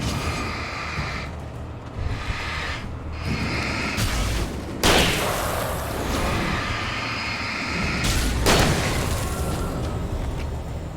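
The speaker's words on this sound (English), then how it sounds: "Shots." Gunfire in the video game Alan Wake: several sharp broadband bursts crack out over a dense, rumbling background of game noise, spaced a few seconds apart.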